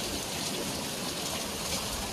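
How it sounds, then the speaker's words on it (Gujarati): Rain falls at Trimbakeshwar near Nashik, a steady, even hiss of drops on surfaces, fairly faint and uninterrupted, with no voices. "ત્યાં વરસાદ ચાલુ થઈ ગયો"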